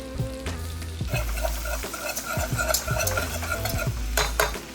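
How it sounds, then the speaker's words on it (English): Ten garlic cloves cook in a pan for garlic buffalo wings, giving a steady soft sizzle broken by repeated scraping stir strokes. The stirring comes in an irregular rhythm, close up, with no talking. "Allow that garlic to cook for a couple of minutes."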